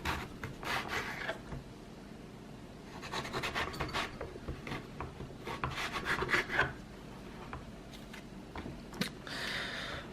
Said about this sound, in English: And then we cut thin strips.